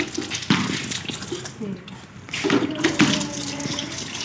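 A bucket of water is tipped out during cleaning, giving a splashing, gushing pour with a couple of sharper surges, heard close amid background noise and clatter.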